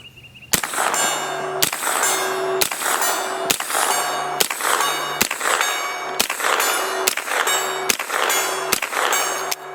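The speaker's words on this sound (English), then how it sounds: "Let's put these on the gong just for a kicks here." Rounds from a 9mm carbine strike a steel gong target in a steady series of about ten sharp metallic clangs, each ringing briefly before the next, loud and evenly spaced with no talk.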